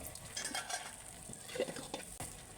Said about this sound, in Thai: ส่วนนี้ก็กระทะร้อนนะทุกคนเราใส่น้ำมันเล็กน้อยแล้วทุกคน ใส่น้ำมันเล็กน้อยเราจะผัด กระเทียมรากผักชีหอมก่อนนะ